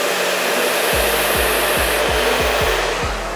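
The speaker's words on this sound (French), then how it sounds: "Je chauffe ma mèche, je laisse ça, je fais chauffer" A hair dryer runs steadily and loudly at close range throughout, blowing hot air onto a lock of hair in a hair salon, with a faint repeating low thump beneath the blowing.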